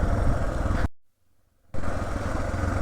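A two-stroke motorcycle engine runs close by with a loud, steady buzzing drone that drops out abruptly for under a second before returning at full strength.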